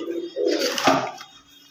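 Kept pigeons give a soft, low cooing call, close by and brief, with faint background noise around it.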